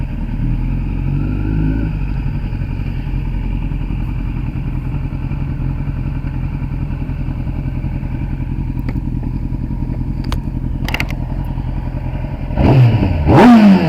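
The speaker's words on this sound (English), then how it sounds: "Just that slight burble as she warms up." A Kawasaki ZX10R sport motorcycle idles as its engine warms up: a loud, close, steady low burble with a slight lift in revs at the very end, and no voices.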